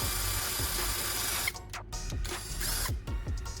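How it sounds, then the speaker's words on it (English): A drill bores a hole in the side of a plastic phone charger housing, giving a close, high whirring buzz that dips and resumes in short bursts as the bit bites into the plastic. "I drill a hole in the side of the charger."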